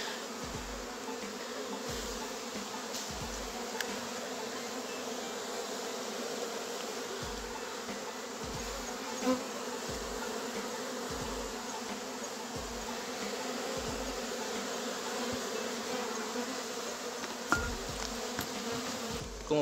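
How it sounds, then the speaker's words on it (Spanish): A steady, dense buzzing of many wild bees fills the air continuously, with no voices, a constant drone from close by as they are captured into a box. "Acá se ve que hay unas cuantas abejas todavía"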